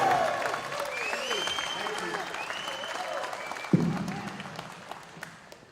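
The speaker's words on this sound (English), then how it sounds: "we can get one huge round of applause for Josh Dowd" A crowd at a swimming nationals practice day gives a sustained round of applause for Josh Dowd, steady clapping that holds across the whole stretch with a few voices mixed in and a sharper burst near the end.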